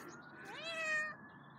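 A single soft, rising meow from a cat at an allotment garden, close by and quiet, lasting about a second.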